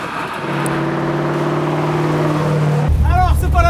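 A 1970 Dodge Charger R/T muscle car engine runs steadily at a loud idle, with a deep, continuous rumble that sharpens into a rougher, harsher roar near the end.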